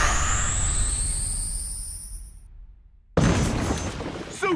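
Iron Man's proton cannon super attack from the Marvel vs Capcom fighting game: a loud sustained blast with a falling whine fades out over a few seconds, breaks into silence, then a sharp burst of crashing impact noise.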